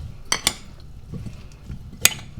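A measuring spoon stirs a cheesecake-flavored mixture in a bowl, giving two quick clinks against the side near the start, soft scraping in between, and one more bright clink toward the end, all close and without talk.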